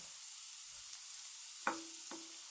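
Onions sizzle steadily in a pan over a burner turned up to max, a soft continuous hiss with a couple of brief sharper crackles and pops near the end, no talking.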